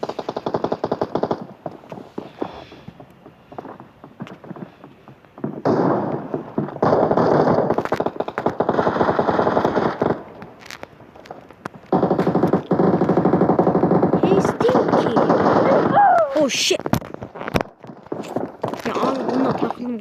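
Gunfire from the mobile game PUBG Mobile comes in long, rapid automatic bursts separated by short pauses, loud and dense, with some sharp single cracks near the end.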